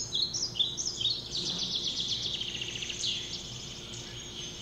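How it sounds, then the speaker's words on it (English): Recorded birds chirping, played from the Cortex meditation app in a lecture hall, a thin, high run of twittering calls that fades gradually over a quiet room hum. "you can at least hear the birds chirping."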